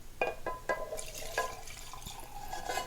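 Hot bacon grease poured off a hot pan in a home kitchen, a short liquid splash with light dripping and tinkling taps, close and fairly quiet.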